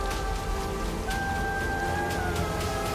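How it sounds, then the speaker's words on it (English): Steady rain falls throughout in a dramatic retelling of Elijah's story, a dense constant hiss with faint tonal music drifting underneath and no talk. "The silence of drought was broken by the sound of rain."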